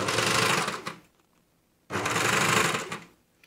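A coverstitch machine fitted with a binder attachment sews binding onto a fabric neckline, giving two steady bursts of fast, close stitching separated by a short pause.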